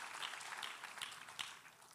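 Congregation applauding in a church service, a dense, steady wash of many hands clapping at moderate distance, fairly quiet, with no voices over it.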